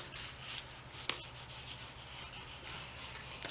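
A tool burnishes a paper edge in soft, continuous rubbing strokes, faint and close, with a couple of small clicks.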